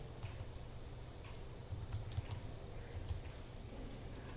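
Fingers type on a computer keyboard in quick, uneven bursts of soft clicks and taps, with brief pauses between runs of keystrokes, close and fairly quiet against low background hiss.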